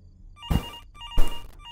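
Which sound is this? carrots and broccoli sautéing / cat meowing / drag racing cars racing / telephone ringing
telephone ringing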